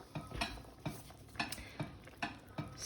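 A spoon stirs cooking cream into an asparagus sauce in a pan, giving a quiet, steady rhythm of soft scraping sweeps about every half second, faint and close, with a low background hum.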